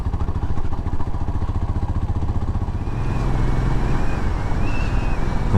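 A 2020 Royal Enfield 500 Trials single-cylinder motorcycle thumps along in top gear with rapid, even low pulses under heavy wind buffeting, loud and close, the engine note lifting slightly partway through.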